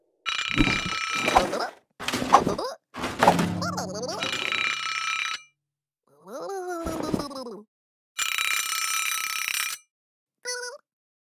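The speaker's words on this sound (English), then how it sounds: "The alarm clock woke up Little Blue in the morning." An alarm clock bell rings in several loud telephone-style bursts separated by short pauses, mixed with cartoonish groaning voice sounds.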